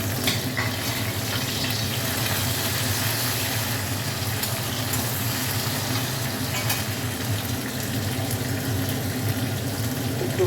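Chopped tomato sizzles loudly and steadily in a hot pan for a katla fish curry, a dense continuous frying hiss with faint stirring, without any talk.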